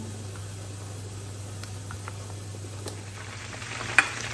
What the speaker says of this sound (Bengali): আয়দা হিল যে চিকেন রাত খাবে এই জন্য আমি এগুলো ভাজতেছি